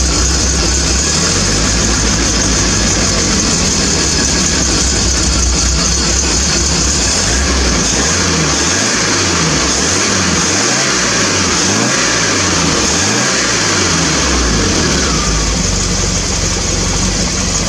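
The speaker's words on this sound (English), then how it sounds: "she'll run a bit lumpy when it's completely cold." A cold Triumph TR7 engine idles roughly on the choke, a steady loud mechanical drone with an uneven, pulsing low-end throb that rises and falls through the middle of the run, no one speaking.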